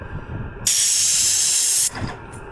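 A loud, steady burst of spray hisses for about a second, starting and stopping abruptly, with quieter background noise around it.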